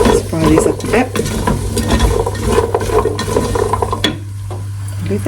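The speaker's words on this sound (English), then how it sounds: "Let's fry these up a bit." Food sizzles loudly in a pan, a steady close frying crackle with occasional scrapes and stirring sounds, no talking.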